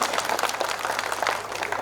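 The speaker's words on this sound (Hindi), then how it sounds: "जरा ताली बजा दो इन लोगों की" An audience at a Holi celebration gathering claps, with brisk, dense applause close by and steady throughout.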